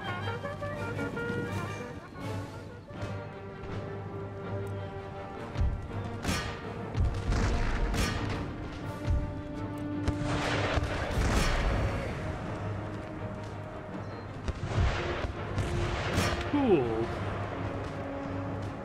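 Round-shot artillery bombardment in Empire Total War: booming cannon fire and rumbling impacts roll through the battle, a run of heavy blasts over continuous din with a voice talking over the action.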